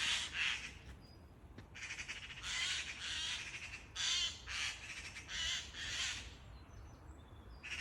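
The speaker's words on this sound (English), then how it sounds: "The birds fighting." Crows caw and squawk harshly while fighting outdoors in the Surrey and Hampshire countryside of the UK, in a string of rough bursts over about eight seconds, moderately distant against faint background noise.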